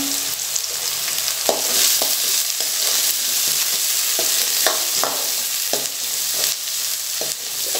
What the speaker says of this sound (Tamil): கொஞ்சம் நல்லா வெங்காயம் வதங்கட்டும்.